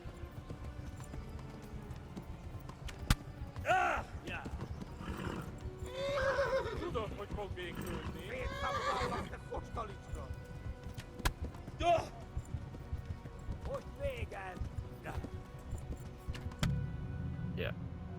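Horses whinny several times over rhythmic clip-clopping hooves in the video game Kingdom Come: Deliverance, with game background noise and people talking throughout.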